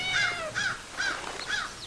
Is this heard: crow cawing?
yes